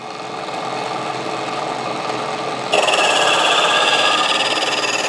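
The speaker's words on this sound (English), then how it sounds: "Now this is a sports knife sharpener." An electric sports knife sharpener runs with a steady grinding, rasping whir that jumps louder and brighter partway through as the blade engages, continuous and close with no talk.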